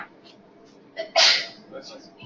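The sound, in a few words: sneeze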